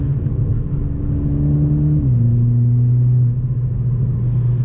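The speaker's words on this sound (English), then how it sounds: "it really makes your 4-cylinder a more deeper growl than" Toyota GR Supra with the 2.0 four-cylinder and an FI aftermarket exhaust drives steadily, a loud, continuous deep engine drone with a low growl that drops in pitch as it shifts partway through.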